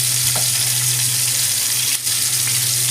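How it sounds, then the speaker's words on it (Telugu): Chicken keema balls frying in oil in a pan, a steady close sizzle over a low constant hum, with no voices. "ఆయిల్ మొత్తము చికెన్ కీమా బాల్స్కి కిందికి వెళ్ళిపోయి మంచిగా ఫ్రై అవుతాయి"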